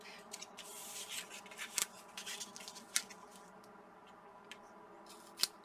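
Scissors trimming paper for a flip flap book, a few quiet snips and paper rustles close by with soft handling noise between cuts.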